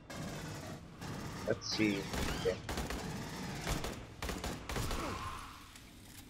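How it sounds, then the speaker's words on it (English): A pulse rifle in the Aliens: Colonial Marines video game fires repeated three-round bursts, loud sharp rattling volleys amid game effects, with a brief spoken remark. "3 bullets at a time. That's weird and a bit stupid for this gun."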